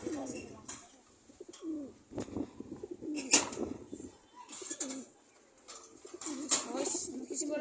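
Pigeons in a loft coo softly and repeatedly at close range, with low throaty calls coming in irregular bursts between quiet gaps, plus occasional light fluttering and chirps.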